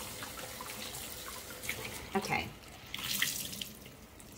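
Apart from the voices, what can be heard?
rinsing suds out under a running tap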